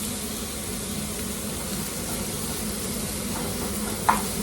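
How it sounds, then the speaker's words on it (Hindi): Onions and mixed vegetables sauté in a hot pan, a steady close sizzle with faint stirring and a small clink near the end. "अब हम इसको सौते करेंगे थोड़ी देर के लिए।"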